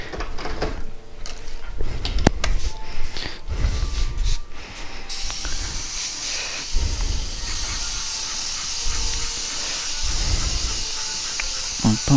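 An airbrush sprays paint over graffiti-style artwork, giving a steady close hiss of air in repeated bursts, rising to a continuous, denser spray partway through.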